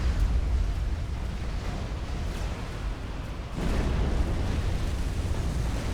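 Heavy, overlapping explosions in the strategy game Forged Alliance Forever with an explosions mod, including naval units blowing up, form a loud, continuous booming roar with a sharper fresh blast about halfway through.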